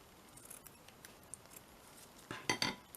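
Scissors cut a piece of paper down for a notepad: quiet, scattered snips and rustles at first, then a few sharper, louder cuts close by near the end, with no talk.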